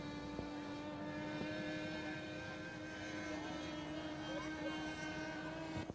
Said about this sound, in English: Ducted Fan attracts modelers who are looking for new and exciting aircraft, something with fantastic flight possibilities.